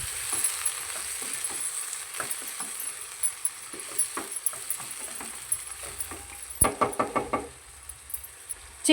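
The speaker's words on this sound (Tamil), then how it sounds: "சிக்கன் கொஞ்சம் வதங்கட்டும்." Chicken sautéing in a pan for white biryani gives a steady soft sizzle with scattered close spoon knocks and scrapes, then a brief burst of louder stirring clatter near the end.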